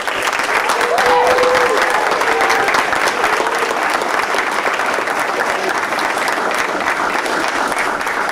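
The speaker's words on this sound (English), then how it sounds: "can we have one last round of applause for all of our retirees?" A steady round of crowd applause at a school board of education meeting honoring retiring West Milford Public Schools staff, dense clapping that holds for several seconds with faint cheers mixed in.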